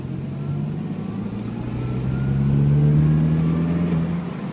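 A car engine idling near stalling at about 500 RPM is opened to wide open throttle, and its low hum swells only modestly, rising slightly in pitch before easing back down, close and steady.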